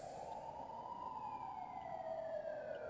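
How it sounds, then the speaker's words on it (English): Police sirens wail faintly in the background of a futuristic city in the VR game Technolust, a steady gliding tone that slowly falls in pitch, with no talk over it. "Just hearing the cop sounds, the sirens and stuff in the background"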